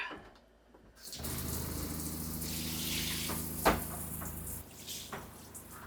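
Shower in an RV running bleach-sanitizing water through its fresh water system, a steady hissing spray that starts abruptly and runs continuously, close and fairly loud, with a few small knocks partway through.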